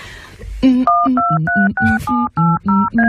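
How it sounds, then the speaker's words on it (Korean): A phone number is dialed as a quick run of about eight distinct DTMF tones, each short and loud with brief gaps between them, after a faint noise at the start. "잠깐 있어봐. 전화 좀 걸게."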